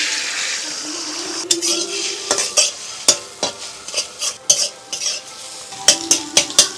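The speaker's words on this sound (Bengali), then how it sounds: "এবার ডিম দিয়ে দিচ্ছি" Beaten eggs seasoned with salt, turmeric and pepper fry in a little white oil in a kadai, a soft sizzle under repeated, uneven metal spatula scrapes and taps against the pan.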